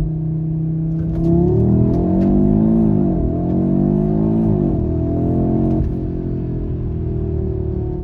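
A 2022 Audi RS3 (8Y) accelerates hard from a standstill toward 100 km/h, its engine note climbing loudly through rising revs with brief dips at gear changes, heard alone and close.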